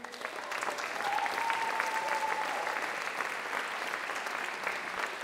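A jazz concert audience in Oslo applauds the conductor after a set with a jazz orchestra, full sustained clapping that swells slightly and holds steady, with a faint cheer early on.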